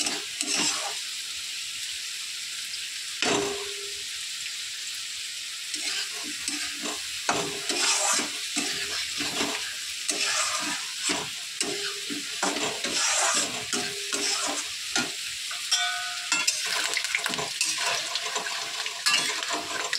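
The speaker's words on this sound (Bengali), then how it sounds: "মাছের ঝোলে জল দিয়ে দেবো।" In a home kitchen, a fish curry cooks after water is added to the fried spices. A spoon stirs and scrapes the pan in uneven bursts over a steady sizzle, with no talking.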